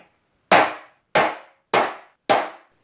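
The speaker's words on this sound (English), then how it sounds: "I'm just gonna tap it with a hammer once or twice, just to make a mark where I wanna drill my pilot holes." A hammer taps a long drill bit four times to mark pilot holes for an electrical cabinet build, each a sharp, close metallic-wooden knock with a quick decay, evenly spaced about half a second apart.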